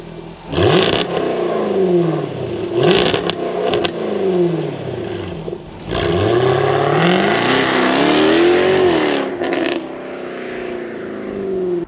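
A Jaguar F-Type V8 on its stock exhaust revs hard through several loud rising pulls from a standing start, each climbing then dropping as gears change, close and unbroken by talk.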